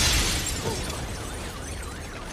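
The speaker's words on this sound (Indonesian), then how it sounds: "Kemudian mereka meledakkan sesuatu dalam bank tersebut yang membuat para petugas di sana terkejut." An explosion inside a bank in a film, a loud booming burst with shattering debris that quickly fades into a rumbling, decaying tail with faint wailing tones behind it.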